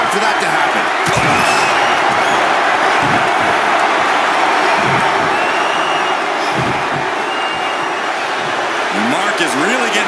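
A roaring arena crowd in the wrestling game WWE 2K25 cheers continuously through the whole stretch, a dense, loud wall of noise with occasional spikes of whoops and slams, with commentators talking over it.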